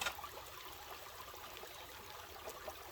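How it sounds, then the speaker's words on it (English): Water runs steadily through a river sluice set in a creek, a soft continuous trickling and gurgling flow heard up close and fairly quiet, with no talking. "the water flows really slowed down in the river sluice"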